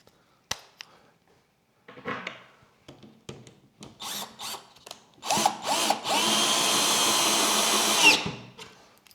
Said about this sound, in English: We're going to run these screws down.